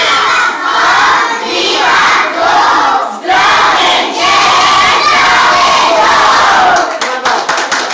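Preschool children at a kindergarten sports competition shout a rhythmic cheer chant in unison, loud repeated phrases with brief pauses between bursts.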